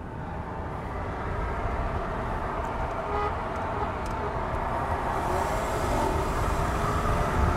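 A BMW 520 with chip tuning accelerates hard uphill with the pedal floored, a steady loud engine roar and road noise heard from inside the cabin throughout, with no talking.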